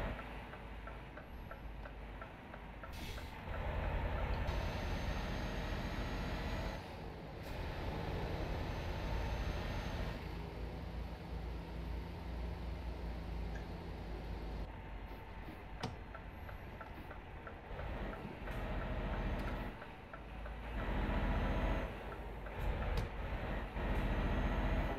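A Scania truck in American Truck Simulator, heard from the cab interior, gives a steady low engine drone with a faint ticking rhythm, staying moderate and even throughout.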